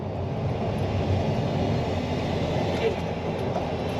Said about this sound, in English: you can hear there's a bit of like an induction noise. That's the turbo surging. It's called compressor surge